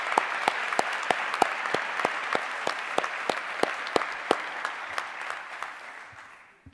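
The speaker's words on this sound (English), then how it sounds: "So we give her a round of applause." An audience at a nursing commencement applauds steadily, with dense clapping and sharp individual claps standing out near the front, sustained for several seconds before tapering off.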